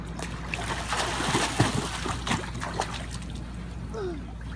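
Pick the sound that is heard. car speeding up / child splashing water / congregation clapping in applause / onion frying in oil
child splashing water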